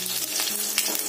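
Mustard seeds, curry leaves and long-cut green chilies frying in two teaspoons of oil in a pan or kadhai, a close, steady crackling sizzle with sharp popping bursts and faint stirring.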